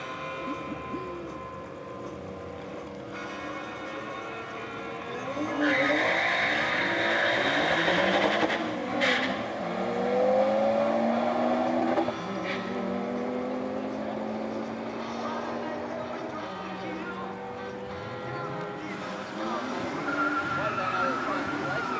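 A 2006 Honda FN2 Civic Type R drag races a Skyline down a quarter mile, with engines revving and shifting through gears, rising to a loud wide-open pass before fading, under an announcer's talk.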